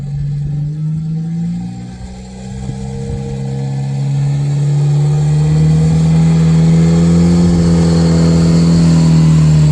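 A four-cylinder Jeep fitted with 4.88 gears crawls up a dusty hill in first gear, its engine droning steadily and close, then rising slowly in pitch and loudness as it labours upward, with no talk.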